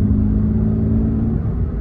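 A Toyota GR86 sports car engine hums and drones steadily at fairly high revs, loud and close, with a low rumbling tone and no speech.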